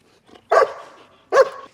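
A puppy named Bang, a female, gives two sharp, close barks on command about a second apart, preceded by a faint little noise.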